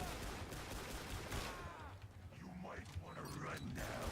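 Gunfire in the Killing Floor 2 video game, with a dense burst of shots at the start, then scattered mechanical clatter and game effects beneath a noisy background.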